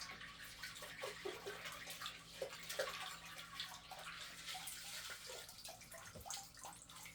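Carbon and biological filter media from a saltwater aquarium being rinsed under running water, a steady close splashing stream with small irregular splatters and drips throughout, no voices.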